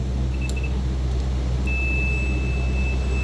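Multimeter continuity beep during diagnosis of a misfiring 2017 Volkswagen, a thin steady tone that sounds briefly, then comes back and holds over a constant low hum.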